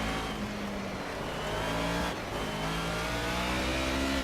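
A Mercedes 190E engine revs under throttle in the Project CARS racing game on a wet track, a loud continuous mid-pitched drone whose pitch rises and falls steadily, with a brief dip partway through.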